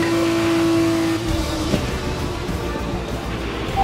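An F2 race car in a video game at Jeddah builds back up to racing speed. Its loud engine tone holds steady, then turns into a broad, rushing roar, with no voices over it.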